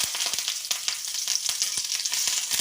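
Loud, close crackling and popping as mustard seeds and lentils splutter in hot oil, with sharp irregular bursts over a continuous sizzle.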